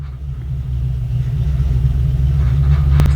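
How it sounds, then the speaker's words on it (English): A turbocharged Ford Mustang drives outside, heard as a steady, deep engine rumble that swells slightly toward the end, fairly distant and with no voices over it. "Can you hear my kid's car out there?"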